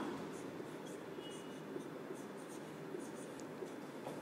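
Steady faint scratching of writing on a board during a biology lecture, continuous and soft under a constant room hiss, with no talking.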